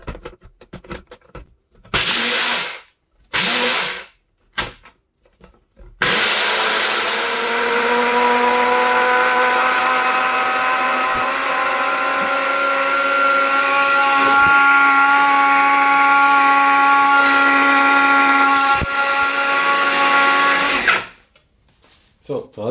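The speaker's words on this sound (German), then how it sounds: "Dann machen wir, schließen wir meinen Mixer an." A blender grinds dry rice into flour, starting with a few short loud pulses and then running as one long, steady, close-up whirring grind for about fifteen seconds before it stops.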